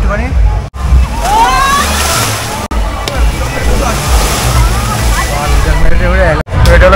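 Water splashes and surges continuously on a ride at Aquatica water park, loud and close, with brief breaks and a voice talking over it.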